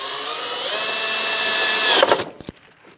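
A power drill drives a Phillips head screw during rear strut work on a Jeep Renegade, giving a loud, steady whine for about two seconds before it stops, followed by a few short clicks and bursts.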